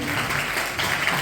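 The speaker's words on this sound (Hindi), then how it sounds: "जोरदार तालियां।" Loud applause from an audience for Ravi Bhaiya, who taught children aged three to ten, a dense, steady wash of clapping filling the whole short moment.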